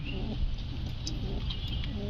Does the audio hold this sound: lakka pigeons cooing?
yes